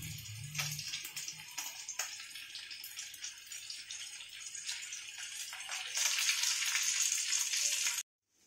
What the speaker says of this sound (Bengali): আমার আলুগুলো ভাজা হয়ে গেছে